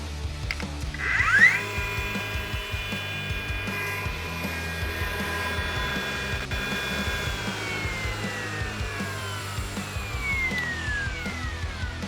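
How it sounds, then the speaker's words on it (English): The flywheel system of a DeWALT framing nailer spins up with a rising whine, then holds a steady high motor hum that slowly tapers, heard close and alone. "is the flywheel system kicking in or kicking up"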